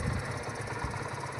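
A tractor engine idles steadily while its hydraulic system is worked, giving a continuous, even, mid-pitched rumble with a faint knocking pulse, close and with no voices over it.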